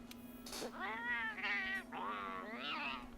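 A Palico cat companion in the video game Monster Hunter World meows three times in quick succession, each call drawn out and rising and falling, loud and close over a steady low game tone.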